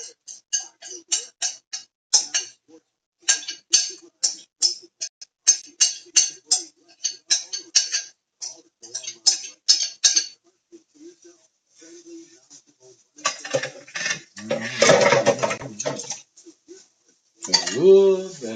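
An onion and spinach mixture goes into a pan and is stirred, making a run of quick, light clinks and taps from a utensil against cookware, followed by a brief voice.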